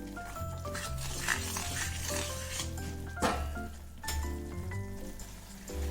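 Jaggery being stirred into a tuvar gravy in a pan for Mehsana-style tuver totha, a steady sizzle and scrape of the spoon with a few louder clanks against the pan, no talking.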